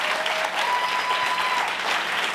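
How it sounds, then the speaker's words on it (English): A crowd at a business competition finals event claps steadily in a sustained round of applause for a bank's chairman and CEO, a broad even wash of hands heard from a distance without breaks. "Let's give him a round of applause."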